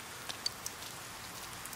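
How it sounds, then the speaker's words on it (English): Rain in the video game Persona 4 Golden falling as a steady, soft hiss with a few light droplet ticks, quiet and continuous. "It looks like it's gonna rain all today."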